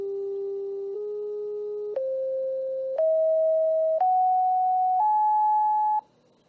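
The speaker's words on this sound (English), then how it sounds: "I'm going to play what the Leonard Horowitz solfeggio scale would sound like, just to give you a comparison using the same signal generator." Pure electronic tones from a signal generator play the Leonard Horowitz solfeggio scale, six steady sustained pitches stepping upward about once a second, each with a small click at the change, then stopping abruptly.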